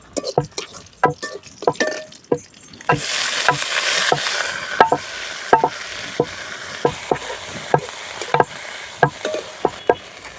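Drumstick flowers and onions stir-fry in a pan for a spicy poriyal, with soft sizzling and repeated stirring and scraping taps up close, and a louder burst of frying partway through.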